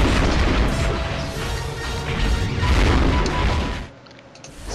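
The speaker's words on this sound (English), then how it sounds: "I'm throwing a missile" A missile explosion in the War of the Monsters video game, a loud rumbling blast that roars for several seconds before dropping off sharply near the end.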